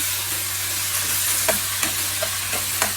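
A spoon stirs a frying potato and egg curry in a hot pan, a steady sizzle underneath with several soft scraping strokes, close by and with no talking.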